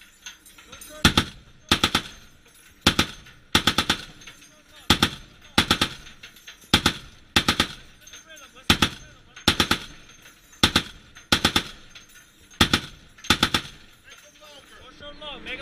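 Twin M2 Browning heavy machine guns fire from a US Navy ship in repeated short loud bursts, about a dozen evenly spaced volleys in a steady rhythm, with faint voices between bursts.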